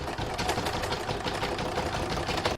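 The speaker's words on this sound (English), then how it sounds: "I'm now going to pop this back in my machine to do round number 3, which is the start of the quilting." A sewing machine runs steadily while quilting a single-fabric Christmas star, its needle chattering in a fast continuous rhythm, close and even throughout with no talk.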